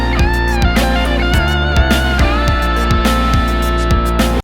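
Electric guitar solo from a recorded song, heard alone as a continuous run of bright sustained notes with bends over a steady band backing with regular drum hits.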